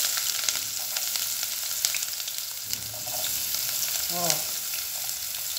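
Finely chopped onion sizzles in a hot pan for a pasta dish, a steady close crackle broken by a few stirring scrapes, with a brief spoken word over it.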